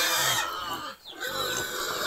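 Pigs on a rural farm grunting in a steady, close, continuous burst, with a short dip partway through.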